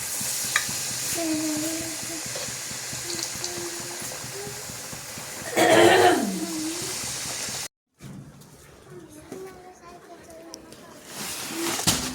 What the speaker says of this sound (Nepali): आमाले यहाँ चाहिँ भाँडा बसालिसक्नु भएको छ। अब त्यसमा तेल हालेर चाहिँ झैँझै गर्नुहुन्छ।